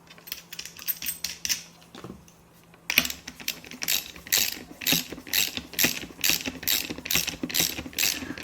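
A ratchet tightening bolts on the terminals that connect LiFePO4 battery cells into a pack: rapid rhythmic clicking in bursts with a short pause near the start, close and fairly crisp, with no talk.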